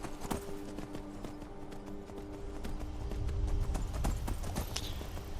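Hooves of a basic bought horse with low stamina clip-clopping at a gallop in Skyrim, a fairly quiet, steady rhythmic drumming of footfalls that continues throughout, with faint background game sounds.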